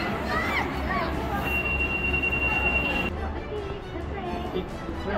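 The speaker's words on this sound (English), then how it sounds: "we are taking the peak tram, the peak tramway." Hong Kong's Peak Tram running at night gives a continuous low rumble of wheels on rails, with a sustained high metallic squeal partway through, while nearby voices murmur.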